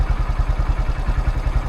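Honda Grom MSX 125 engine running with a steady, pulsing mechanical beat whose revs shift slightly as an adjustment screw is turned, close and fairly loud with no voices.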